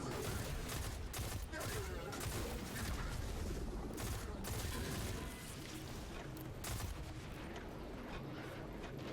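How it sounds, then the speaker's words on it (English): In the Destiny 2 video game, a gun fires in repeated short bursts, each a dense cluster of sharp shots, over a continuous busy background of game noise. "Forgot it was in burst fire."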